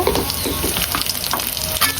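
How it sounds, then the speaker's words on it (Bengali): Ginger garlic paste fries with onions in a pan, a steady close sizzle with light stirring scrapes, no talk. "এখন এই যে আদা রসুন পেস্ট দিয়ে দিব"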